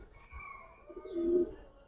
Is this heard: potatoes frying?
no